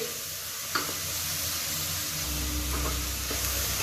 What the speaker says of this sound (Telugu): ఆ పప్పుని వేసి బాగా తిప్పించి ఒక రెండు సేపు ఫ్రై చేయాలి